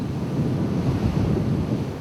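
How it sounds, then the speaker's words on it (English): Strong ocean waves in open water heard by a ship at sea, a steady loud rush of surf and wind noise with no break across the whole stretch. "when the ship reached open waters, it encountered strong waves"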